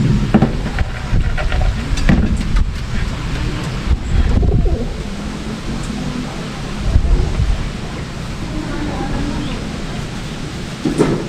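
Pigeons coo softly at close range in a loft, low murmuring calls repeating over a steady background hum, with faint rustling and occasional knocks.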